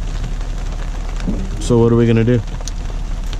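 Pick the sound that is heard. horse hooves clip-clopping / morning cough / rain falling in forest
rain falling in forest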